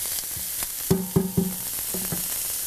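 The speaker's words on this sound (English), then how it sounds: "you want these onions to caramelize just a bit. So you want to saute this about 4 or 5 minutes" Onions sauté in a pan for a mushroom and sun-dried tomato pasta, with a soft sizzle and a few quick squeaky scrapes from a spoon in short bursts.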